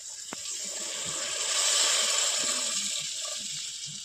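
Water pours steadily into a pot of country chicken cooking over a wood-fired stove, a soft continuous gushing that swells slightly in the middle before easing off.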